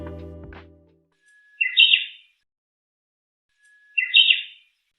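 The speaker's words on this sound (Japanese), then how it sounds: "これが本物のほーほけきょです。" A Japanese bush warbler (uguisu) sings its call twice alone, each a long low whistle rising into a quick bright flourish, clear and fairly close with silence between, after a short hollow tone at the start.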